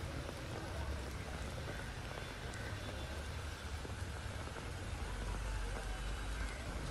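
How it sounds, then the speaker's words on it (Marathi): Heavy rain pours in Mumbai as a dense, constant wash of noise, with faint traffic rumble beneath it. "मुंबईमध्ये सुद्धा पहाटेपासून मुसळधार पाऊस कोसळतोय"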